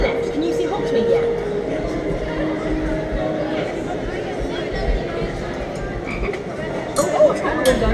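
A chocolate frog croaking effect plays on the Harry Potter studio tour train, repeated croaks sitting over a rumbling carriage while people chatter and talk throughout.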